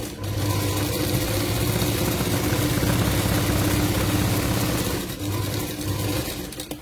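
A sewing machine motor runs loud and steady for several seconds, with a brief dip near the end, as it sews a single stitch on a machine fitted with a new bobbin.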